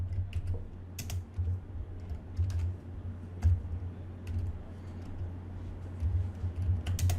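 Code being typed on a computer keyboard, with steady, close clicking keystrokes running throughout and a low hum underneath.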